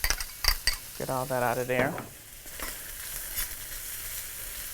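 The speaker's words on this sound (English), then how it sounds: "I'm gonna go in with these veggies. I want to do the onion first to get that going." Onion and vegetables sizzle in oil in a saute pan, a steady crackling hiss beneath scraping stirring and clinks of a utensil, while a person speaks briefly over the cooking.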